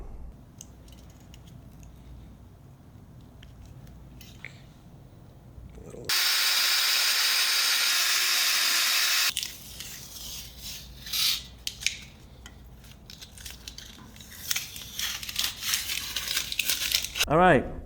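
Power drill boring pilot holes with an 11/32 drill bit to 1.5 inch depth for deck cable rail hardware, one loud steady whine lasting about three seconds between quieter handling and scraping sounds.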